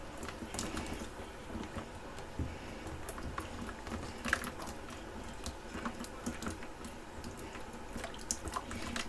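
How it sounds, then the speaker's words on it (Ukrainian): Water sloshing and dripping from a ladle near a broom handle, a steady patter of small splashes and drips throughout, close and moderately loud, with no talking. "Куди завгодно хлюпається водиця, тільки не на ручку віника."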